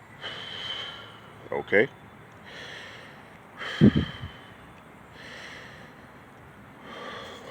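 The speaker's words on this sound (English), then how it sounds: "So you're going to take 3 deep breaths." Deep, audible breaths drawn in preparation for blowing a shofar (ram's horn), two distinct inhalation bursts standing out near and close, with a soft spoken word and faint room noise between them.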